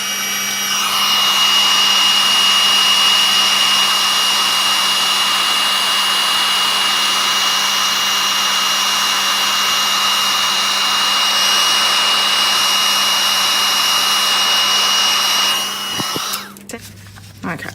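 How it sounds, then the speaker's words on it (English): A heat tool blowing a steady, loud airflow whoosh to melt embossing powder on a stamped card, running almost the whole time before cutting off near the end. "Just going to heat it up with the heat tool, and you can see that it will"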